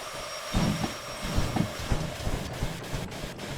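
Locomotive running in the Derail Valley train game, a steady low rumble with rhythmic knocks and clanks of rolling stock, moderately loud and continuous, with no voices.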